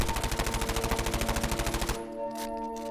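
MP5 submachine gun loaded with 10mm rounds firing a sustained full-auto burst in Modern Warfare, about two dozen rapid, evenly spaced shots. The burst stops abruptly and is followed by a softer mechanical tail.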